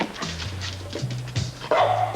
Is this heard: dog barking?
yes